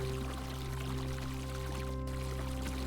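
Water flushes out during a surgery scene in a video game, a quiet, steady pouring stream over a constant low electronic hum.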